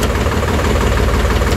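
A brand-new tractor with power steering, 13-inch rear tyres, 6.50-16 front tyres and oil brakes idles loudly right after starting, its steady, close engine rumble filling the whole moment without any speech.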